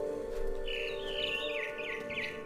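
Bright, rapid bird chirps and tweets from a small bird near a big tree in What Remains of Edith Finch, a quick run of calls over a humming background drone.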